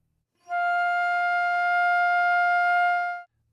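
Flute holding a single steady F natural in the second octave for about three seconds, clear and close with a smooth onset and clean release, played alone without any talking.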